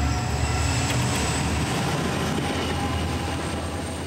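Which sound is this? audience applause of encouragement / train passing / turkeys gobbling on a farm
train passing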